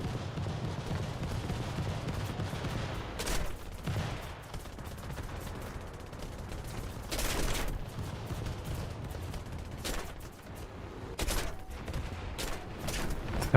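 Bursts of .50 caliber machine gun fire in a naval combat game, several short volleys a few seconds apart over a steady low engine rumble, moderately distant.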